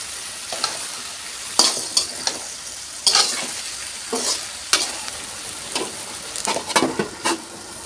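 Taro stolon curry stirred in a pan over low sizzling, with scattered close scrapes and clinks of the spatula arriving in irregular bursts; no talking.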